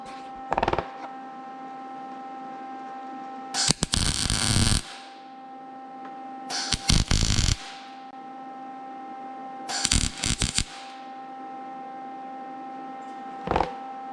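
A steel windshield frame on a 1995 Peterbilt 362 cabover is being welded, with three separate crackling bursts of a few seconds each over a steady electrical hum and occasional short clicks between them.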